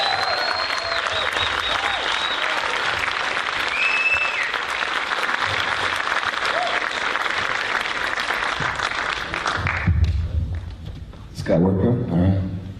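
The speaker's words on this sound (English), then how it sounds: "So huge, huge, huge round of applause for the one and only" A crowd at a speaking event in Australia breaks into loud, sustained applause and cheering for a speaker, continuing for about ten seconds before fading into a voice and brief renewed noise.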